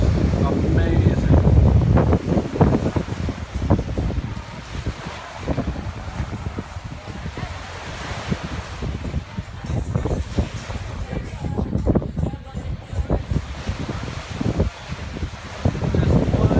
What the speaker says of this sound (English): Sorry about all the wind, but the wind's kicking up out here